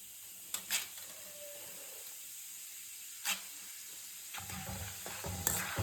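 Chickpeas fry in hot oil for an avalakki mixture, making a soft, steady sizzle with a few sharp clinks of stirring and a louder burst of frying near the end.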